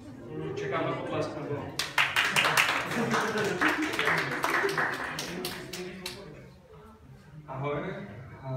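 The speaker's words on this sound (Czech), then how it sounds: "Čekám na potlesk." A small group at a Pirate Party regional meeting in Prague gives a short burst of clapping lasting a few seconds, with people talking before and after it.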